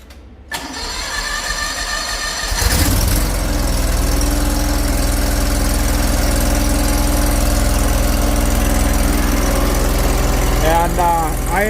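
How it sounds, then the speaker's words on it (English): A mini skid steer engine cranks briefly on a cold day after new spark plugs, catches and settles into a steady, loud idle that runs nearby to the end. "next day I'm gonna test the mini skid, see if it fires right up after the plugs are changed."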